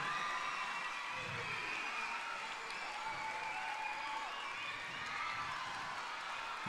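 Audience applause at a Chilean heritage celebration, a steady wash of clapping with scattered cheers and shouts that holds at moderate level throughout without any clear break.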